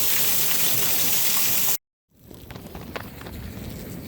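Heavy rain pours steadily across a flooded yard, a dense continuous hiss that cuts out briefly, then resumes with scattered drops and splashes.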